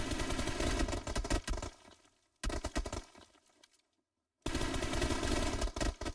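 Rapid bursts of automatic gunfire from an esports shooter match, loud and close, firing in two long volleys broken by a sharp cut and a brief silent gap.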